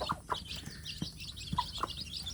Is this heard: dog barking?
no